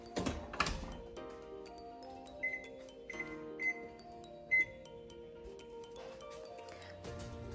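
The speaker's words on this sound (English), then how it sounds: "The timer just went off." A kitchen oven timer chirps in a few short, quiet electronic beeps spaced over several seconds, against light clicking and handling noise in an otherwise calm room.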